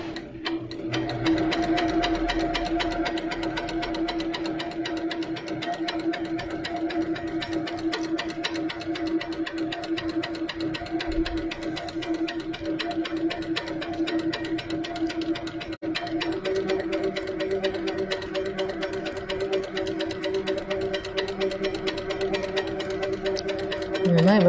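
A sewing machine stitches steadily during bobbin quilting with metallic threads, a fast, even mechanical whirr and ticking that runs continuously close by with little change.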